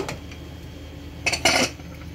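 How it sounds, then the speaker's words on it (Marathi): A pressure cooker lid is opened after cooking coconut rice, making a couple of quick metallic clanks and a short scraping clatter, close by and alone. "आता आपण कुकर ओपन करून बघूया।"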